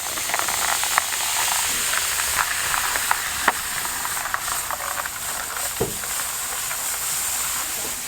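Liquid nitrogen poured into a tray gives a steady, broad hiss throughout, broken by faint ticks and crackles, with no talking.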